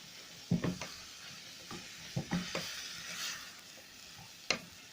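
Onions and chicken gizzards stirred in a pan, with quiet scraping strokes and soft sizzling, a few sharper knocks of the utensil against the pan, close and fairly faint.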